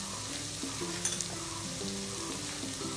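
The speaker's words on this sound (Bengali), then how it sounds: "মশলাটাকে ভালো করে কষায় নিব।" A masala of salt, turmeric and chili powder frying in oil, a soft continuous sizzle with light stirring and a brief clink of a spoon partway through, quiet and close.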